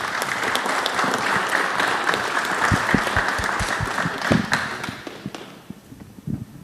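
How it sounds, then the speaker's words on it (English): An audience at a city council meeting applauds, a dense steady patter of many hands clapping that thins into scattered claps as it fades out. "Let's give one more round of applause."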